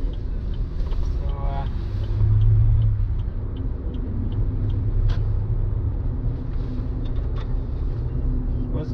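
A Land Rover Discovery 3 on studded winter tires drives on an icy road, with a constant low road rumble and a fine crackling of studs heard from inside the cabin, with talk over it.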